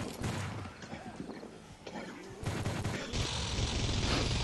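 Gatling gun fire in a multiplayer video game, dense continuous rapid shots that grow louder toward the end, with a player's voice and other game noise mixed in.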